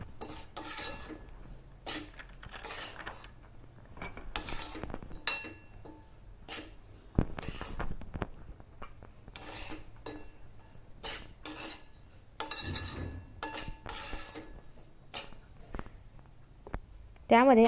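Amaranth flour is worked around a kadai with repeated, irregular raspy scrapes of a spoon on the pan's surface, close and fairly soft, and a voice is heard briefly at the very end.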